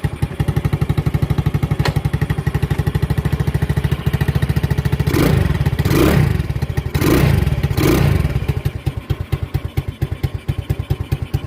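A Honda Ruckus scooter engine idles close by with a steady rapid putter, briefly rising in a couple of throttle blips midway before settling back to a rough, uneven idle.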